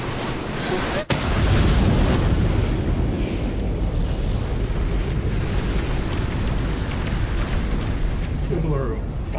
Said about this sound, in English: Pillar of fire.